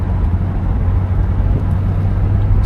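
Engine of a 1973 Oldsmobile Delta 88 revving, a close, loud, steady low rumble with little change in pitch over a few seconds, heard alone without talk.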